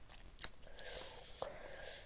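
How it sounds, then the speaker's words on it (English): Close, soft chewing of strawberry Hi-Chew candy, with a few moist clicks and crunchy bites spread over about two seconds in a quiet room, no talking. "chewing some hi-chews"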